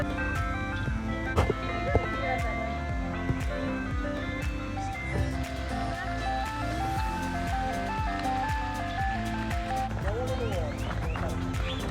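An ice cream truck plays its looping jingle tune nearby in a store parking lot while people talk over it.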